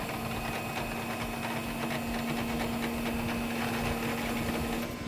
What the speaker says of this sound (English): All we're going to do is winch out a little bit.